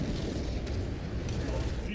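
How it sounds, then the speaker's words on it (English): Pyrogenic bombardment in Warhammer 40,000: Space Marine 2, a dense continuous roaring rumble of fiery explosions that fills the whole two seconds, loud and close, with a voice faintly mixed in underneath. "Pyrogenic bombardment incoming."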